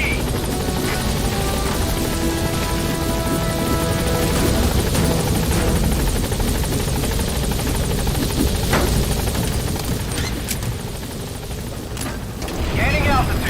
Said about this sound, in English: Все огневые силы против вражеского вертолета